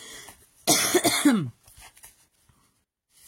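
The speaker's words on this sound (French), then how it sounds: "Pardon, je tousse." A single sharp cough burst, close and fairly loud, followed by quiet breathing and faint rustling.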